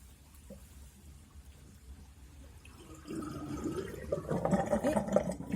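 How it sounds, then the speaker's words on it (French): Dirty soapy water from washing a synthetic wig is poured out, starting faint and swelling into a splashing, gurgling flow that grows louder toward the end. "J'élimine mon eau sale."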